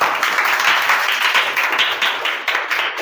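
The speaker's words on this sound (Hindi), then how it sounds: "इनके लिए तालियां हो जाए।" A short burst of applause from a small group, dense hand claps rising and fading in loudness for a few seconds, close and lively.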